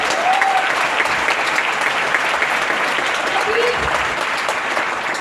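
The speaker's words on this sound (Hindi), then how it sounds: "एक बार हम लोग अपनी मम्मी के लिए जरूर ताली बजाएं" A large audience at a motivational seminar claps continuously for mothers, a loud, dense and even wall of applause sustained throughout.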